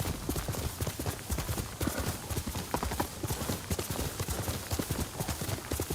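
Horse hooves clip-clopping in a video game, a fast steady galloping rhythm of close, sharp hoof strikes that continues without a break, with faint speech in the background.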